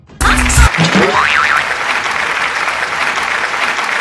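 A crowd claps loudly for a birthday girl called onto the stage at a birthday party. The applause bursts in after a brief cartoonish sound effect and stays as dense, steady clapping.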